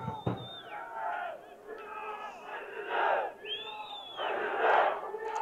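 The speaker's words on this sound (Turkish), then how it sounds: "şu an tribünlerden inanılmaz bir destek, inanılmaz bir tezahürat" A stadium crowd of thousands chants and roars in support of Zapspor during a football match against 12 Bingölspor, with massed voices rising and falling in loud waves throughout.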